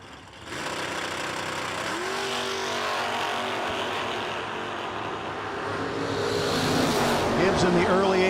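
A 1966 Dodge Dart drag race car running at a drag strip during a no-delay drag racing event, a loud, sustained engine roar that builds and surges as it pulls away, with an announcer talking over it.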